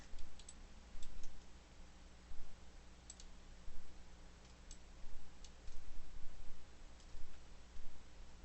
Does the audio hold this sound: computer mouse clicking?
yes